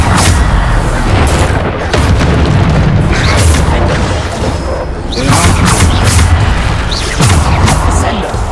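The Bombarda spell in Hogwarts Legacy erupts in heavy, booming blasts that come in a near-continuous barrage of deep explosions and bursts, loud and close, with combat noise layered throughout.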